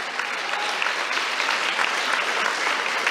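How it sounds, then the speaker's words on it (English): An audience at a talk applauds steadily for the revolutionary leader Ho Chi Minh, a loud, dense wash of clapping from a crowd that holds even throughout with no voices over it. "if you clap for him, I'll be really happy"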